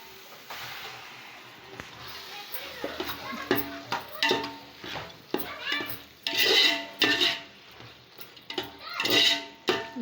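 Meat and masala sautéing in a pot for Sunday biryani, a soft sizzle under repeated clanks and scrapes of a metal spoon against the pot, stirring in irregular bursts, close by with faint voices in the background.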